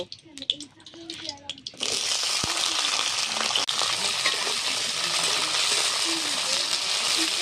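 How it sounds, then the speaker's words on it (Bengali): Yardlong beans frying in hot oil in a wok, a loud, steady, dense sizzle that kicks in after about two seconds and holds to the end, with quieter kitchen clatter and scraping before it starts. "এবার আমি বরবটিটাকে ভেজে নেব"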